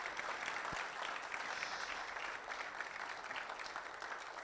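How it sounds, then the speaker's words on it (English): An audience at a Ghana Compact media launch applauds steadily and fairly far off, a sustained wash of clapping with no voices over it. "can we give him a big round of applause"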